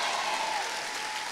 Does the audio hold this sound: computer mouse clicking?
no